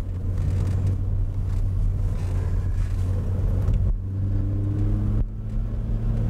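Car driven through an elk test cone course for a lane-change manoeuvre, with a steady, loud engine and road rumble that dips briefly twice as the driver lifts off during the swerve.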